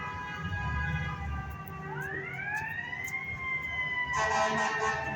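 An emergency vehicle siren wails with rising and falling tones over steady New York City night traffic rumble, growing louder and harsher toward the end.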